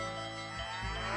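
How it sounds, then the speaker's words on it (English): A single short, close moo from cattle in the Nancy Drew: Secret of Shadow Ranch video game, heard alone against a faint steady background. "Hear that? That's the sound of happy cattle"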